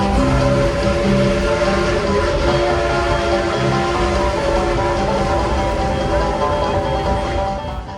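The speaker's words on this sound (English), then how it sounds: "This is a real coal-burning engine, and it throws soot into the air." A coal-burning steam train rumbles steadily nearby with a dense, continuous clatter and hiss, loud throughout and fading slightly at the end.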